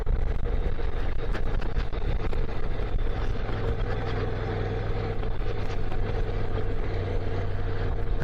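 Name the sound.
Honda NC700 motorcycle riding on a mountain road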